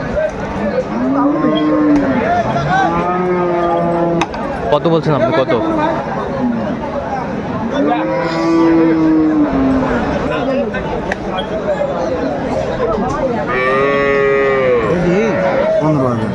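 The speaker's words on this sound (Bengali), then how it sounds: "গাভী বাছুর" Cows and calves moo loudly and repeatedly at a livestock market, low drawn-out calls overlapping with people chattering and bargaining nearby.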